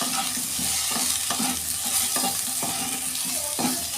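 Mango pieces with a little salt frying in a pan for chutney, a steady sizzle broken by repeated scraping stirs at a regular rhythm, close and clear with no talking.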